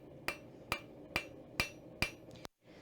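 Steady hammer blows forge facets along the length of a piece of metal: five sharp, ringing strikes about half a second apart, close and loud, then a quiet stop.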